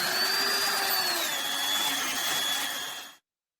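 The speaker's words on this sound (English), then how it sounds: "we take the Dremel, attach the bit," A Dremel rotary tool with a bit attached whirs at high speed, cleaning out a brake guide pin seating hole on a Peugeot 308 T9, a close, steady whine that dips slightly in pitch under load before cutting off abruptly near the end.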